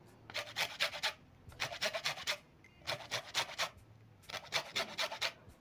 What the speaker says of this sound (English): so I'm going to zest the green part of the lemon